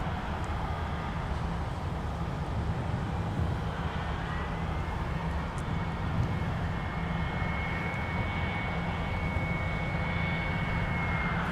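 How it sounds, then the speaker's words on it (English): A FedEx cargo heavy jet on final approach to runway 12 right at MSP airport gives a steady, continuous engine roar with a high whine, holding level throughout with no voices. "FedEx 798 now on final approach for runway 12 right. This is our next cargo heavy arrival."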